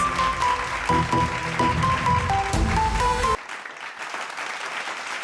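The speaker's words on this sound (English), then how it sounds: "Have a huge round of applause, please." A hall audience claps at a spelling bee competition event, with loud, continuous applause over music playing in the background, then both cut off abruptly and leave a quieter, thinner patter of claps.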